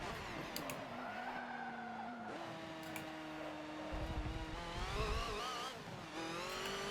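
Race car engine at Le Mans in a racing game, pulling out of pit lane onto the Dunlop Straight: a loud, close whine rising through gear changes, with tire squeal, revving bursts and a brief drop in pitch before climbing again.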